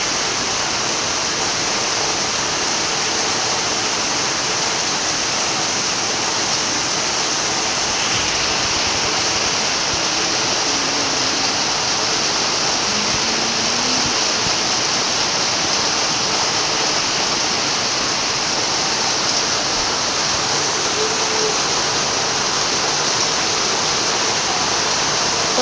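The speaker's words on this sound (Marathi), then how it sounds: "ते भरलचं पाणी जसं खाली जाते" Rainwater gushes down a dug channel in front of a house, with runoff from a roof sheet joining it; a loud, continuous rushing flow fills the whole stretch, close by and steady, with no talk over it.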